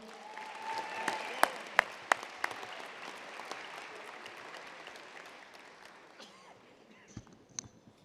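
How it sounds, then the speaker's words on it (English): Audience applause at a football foundation awards dinner, broad steady clapping with a few sharp close claps standing out early, then slowly thinning and fading toward the end. "Round of applause for Victoria Arlen."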